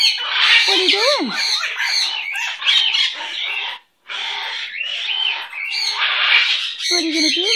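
A pet bird squawks and chatters loudly up close, harsh repeated calls with a few whistled notes, while a person talks to it in between.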